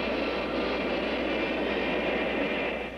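Airplane engine in flight in a 1977 film, a steady broad roaring drone that holds constant throughout, loud and close with no talk.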